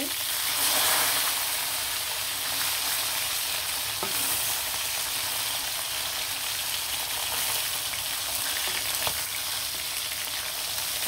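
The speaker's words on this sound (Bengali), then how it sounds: "মাছগুলো কিন্তু খুব সুন্দরভাবে ভাজা ভাজা হয়ে গেছে। আর মাছগুলো কিন্তু আমি মিশিয়ে নেব।" Fried river fish, local meni and koi, being stirred in a pan, with a steady close sizzle of frying and occasional scraping knocks of the spatula throughout.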